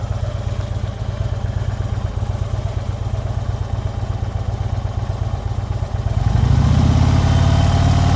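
A motorcycle engine runs steadily at low revs during slow-speed riding drills, its loud, close chug rising into a stronger, throatier rev near the end with no talk over it.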